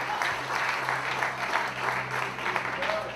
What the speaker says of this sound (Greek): Χειροκρότημα.